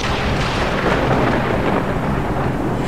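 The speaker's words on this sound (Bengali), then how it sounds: "এই অসময়ের বৃষ্টি যে আমার ক্ষেতের সব ফসল নষ্ট করে দেবে" Cartoon storm: heavy rain with deep rolling thunder, loud and continuous, no voices.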